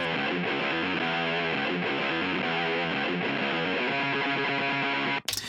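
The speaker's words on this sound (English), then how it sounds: "fuzzing out the guitar going into our STL Tone Hub preset." Lo-fi fuzzed electric guitar, driven by a Decapitator plugin into an STL Tone Hub amp preset, chugs a thick, buzzing, overloaded riff that sounds loud and saturated, then stops with a sharp burst of noise at the end.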